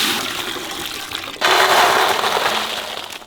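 Water pours into a cooking pot while mutton biryani is being made, a sudden steady splashing rush that starts partway through and continues loudly to the end.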